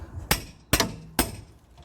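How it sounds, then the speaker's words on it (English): Three hard metallic hammer blows, evenly spaced under a second apart, ring out close up against a tight front wheel hub on a 2004 Saab 9-3 during a hub replacement, each strike decaying quickly. "And you're going to need your hammer"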